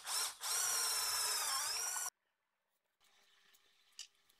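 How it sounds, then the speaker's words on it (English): A step drill bit bores holes in aluminum sheet, a loud steady high-pitched whine lasting about two seconds, then a pause before a quieter stretch of drilling with a brief sharp peak near the end. "Using a step drill bit makes it easy to drill the various holes."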